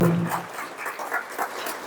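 An audience claps in welcome for a Jain monk, Panchnyas Satya Vijay Maharaj, at a religious gathering: a short spell of dense, steady applause.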